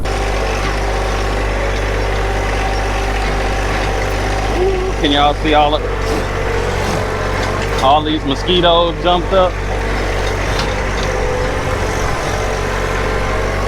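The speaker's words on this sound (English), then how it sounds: "Let me jump on this tractor real quick and bring the stuff over here that we need" A tractor engine runs on an off-grid homestead, a steady low rumble that continues throughout while someone talks over it nearby.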